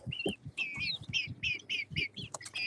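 Pet birds chirp and tweet in a steady, busy stream of bright, repeated calls, heard up close and with no talking over them.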